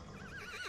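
A cartoon horse whinnies from a stable, a short wavering neigh heard close and alone.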